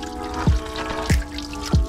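Water spills from a public park drinking fountain in Madrid, a close, continuous trickle broken by three gurgling splashes about every half second, with no one speaking.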